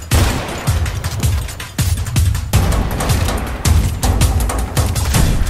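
Rapid sniper rifle shots ring out in a video game shootout, a steady series of sharp, loud cracks with booming tails, roughly one every half second to second, close and dominant with no talk.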